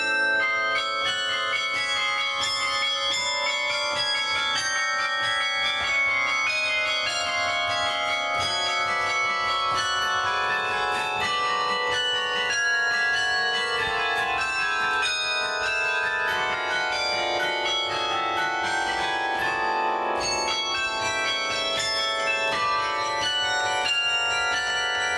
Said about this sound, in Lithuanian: Peterio Šilingo varpų liejyklos Apoldoje Vokietijoje pagamintas karilionas buvo įtaisytas pašto bokšte antrosios Lietuvos nepriklausomybės išvakarėse.